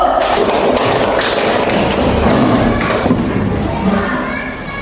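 A classroom of students clapping hands together during a Pancasila lesson, a dense, steady patter of many palms that holds strong before easing off slightly at the end.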